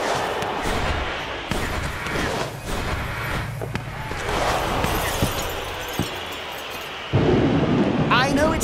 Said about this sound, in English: I know it's an easy excuse, but it is raining.